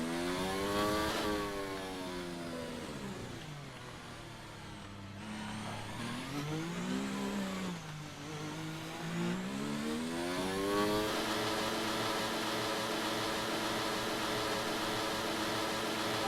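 An F1 car with a broken gearbox cruises in the F1 2019 video game at Monaco, its engine droning in one long tone that rises and falls slowly, then holds a steadier higher whine, with no voices.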